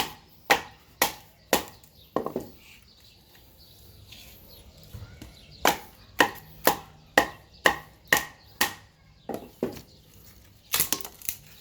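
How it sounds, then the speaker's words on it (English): Knife batoned through firewood logs on a porch, a series of sharp, close wooden chops and cracks in quick bursts with brief pauses between. "I'm gonna be working really hard now to split all of these logs"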